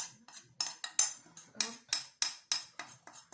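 A metal spoon scraping melted chocolate around a bowl, about a dozen sharp, close scrapes and clinks in an uneven rhythm, each fading quickly, with no voices.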